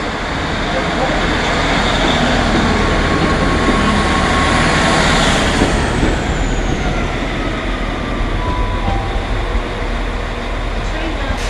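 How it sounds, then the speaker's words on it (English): A Transport for Wales train pulls into a platform at Shrewsbury station, a loud continuous rumble and rail noise that swells and holds for several seconds, with a faint high squeal partway through. "The train now approaching platform 4 is the 15:30 Transport for Wales"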